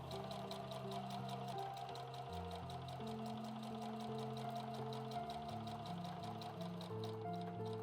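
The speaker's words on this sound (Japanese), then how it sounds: "そしてこの2枚合わせてミシンで縫います。" A sewing machine stitches two pieces of fabric together with a 1 cm seam allowance, a steady fast mechanical whir running continuously throughout, with a droning musical background underneath.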